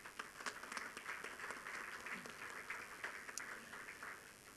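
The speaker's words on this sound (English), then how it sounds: "Give him a round of applause" An audience at the IAGR 2017 opening applauds, a steady wash of many hands clapping at moderate distance for several seconds.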